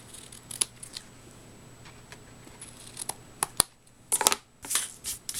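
Scissors trim paper for an 8x8 scrapbook mini album page, giving scattered sharp snips with quiet gaps between, then a quick burst of close cuts near the end.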